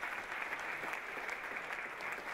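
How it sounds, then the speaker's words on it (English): An audience applauding, even continuous clapping from many hands, moderately faint and sustained for a couple of seconds with no talk. "Let's give them a round of applause,"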